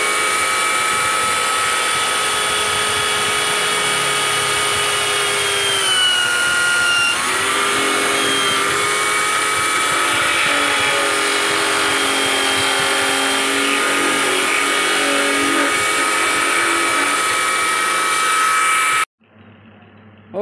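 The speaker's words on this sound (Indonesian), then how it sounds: "Kita lanjut ke proses pengeboran sahabat ya." Power drill boring into a coconut shell while making a ring, a steady high whine held for nearly twenty seconds with a brief pitch dip partway, loud and close, then cutting off abruptly.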